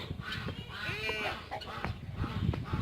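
Several geese honk and squawk close by in a noisy flock, calls overlapping against a busy background.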